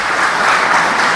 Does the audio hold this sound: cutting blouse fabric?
no